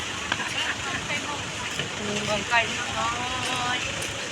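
Rain falls on a factory parking lot, a steady close hiss and patter with a few scattered louder drops, with faint voices and a passing vehicle sound mixed in.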